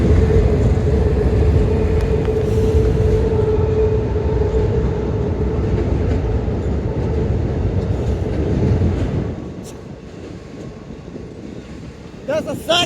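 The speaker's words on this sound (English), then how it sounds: "And there's the other train. It's coming across now." A second train, a manifest freight, crosses at Kenova, West Virginia, with a loud continuous rumble and rolling wagon noise that fades toward the end.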